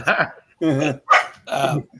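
A dog barks four times in a row, loud and near, each bark a bit rough and drawn out with short gaps between them.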